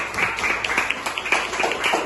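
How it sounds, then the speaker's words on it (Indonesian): Irregular clapping from a small group of fourth-grade primary school pupils in a classroom, steady for a couple of seconds with sharp individual hand claps standing out. "tepuk tangan dulu untuk Putri yang ada di sana."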